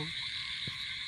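Steady chorus of frogs croaking in the background, a continuous droning trill with one brief low croak standing out, fairly faint and ambient.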